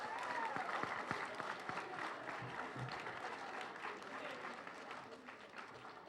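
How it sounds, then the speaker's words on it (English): An audience at a civic climate-education event applauds in a steady, dense round of clapping that carries on throughout at moderate distance, with faint voices mixed in. "Another round of applause"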